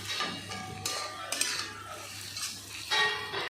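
A dried fish curry is stirred with garam masala in a pan, with close utensil scrapes and clinks over a light sizzle in a few short bursts.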